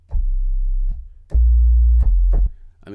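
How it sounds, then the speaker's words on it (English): A deep, smooth sub-bass sine wave, lowered a couple of octaves in Logic Pro X, played as a few sustained notes, low and humming, with short clicky attacks and no voices. "So if we take it down a couple of octaves,"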